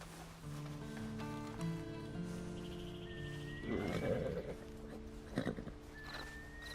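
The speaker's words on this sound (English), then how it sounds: "you better get on this horse" Horse neighing and whinnying in Red Dead Redemption 2, a long whinny followed by snorts and hoof shuffles, moderately near over a low ambient game background.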